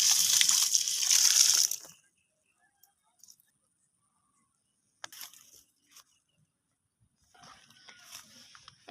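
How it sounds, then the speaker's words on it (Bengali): Water gushes out steadily while garden plants are watered, a close hissing splash for about two seconds that stops, followed by faint scattered knocks and rustles. "গাছ লাগানো আছে, গাছে পানি দিতে আসছি।"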